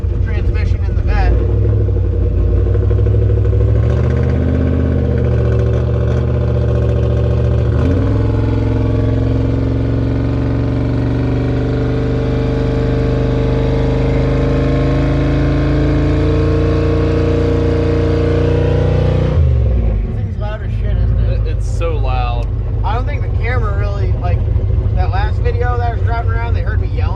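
A turbocharged Ford Ranger truck engine roars loud and close in a long sustained rev, holding a deep droning note before cutting off, then idling roughly under people talking.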